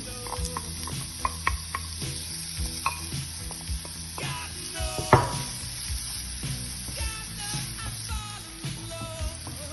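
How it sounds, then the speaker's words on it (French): Finely sliced onion fries in hot olive oil in a pan, giving a steady, close sizzle. Scraping and stirring clatters sound throughout, with one sharper clink near the middle. "Dans un peu d'huile d'olive chaude, on va faire revenir notre oignon."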